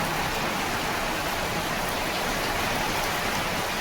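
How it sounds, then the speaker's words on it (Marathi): Loud, constant rain pours down close by, a thick unbroken hiss of drops hitting surfaces throughout. "थांब पाऊस येतोय"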